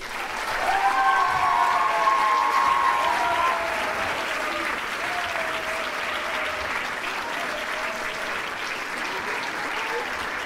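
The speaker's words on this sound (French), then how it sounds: "Est-ce que vous pouvez continuer à applaudir cette fois-ci pour le groupe d'Aix-en-Provence?" A crowd at a Polynesian dance show applauds steadily for about ten seconds, with the clapping fairly dense and even and a brief tonal sound near the start.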